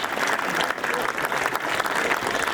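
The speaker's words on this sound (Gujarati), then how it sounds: "એકવાર જોરદાર તાળીઓના નાદ સાથે વધાવ્યા આ દીકરીને" A family gathering's audience breaks into loud, dense applause to honour a daughter, a continuous sustained roar of clapping.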